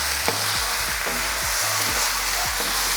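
Cheesesteak pasta tossed in a hot carbon steel wok over a Kamado Joe grill, a steady close sizzle broken by several rhythmic scraping stirs, with no talking.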